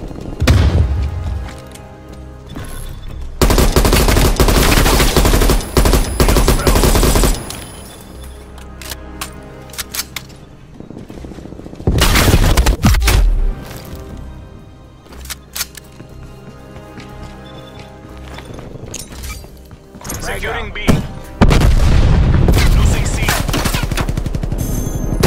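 Video game battle with artillery fire and automatic gunfire: loud bursts of shots and booming blasts come in several long waves across the clip, broken by quieter gaps, with a little voice chatter in the mix.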